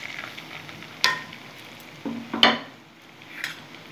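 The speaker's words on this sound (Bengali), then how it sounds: "ভালো করে গাজরগুলো ভেজে নেব, খুব ভালো করে ভেজে নেব।" Grated carrots frying in ghee for gajar halwa, a soft low sizzle under a few sharp scrapes and clinks of a spoon against the pan as they are stirred.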